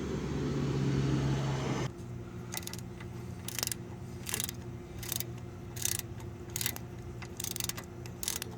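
A socket wrench ratchets in short bursts of sharp clicks during wheel work on a vehicle, close by, after a loud steady hum cuts out in the first two seconds.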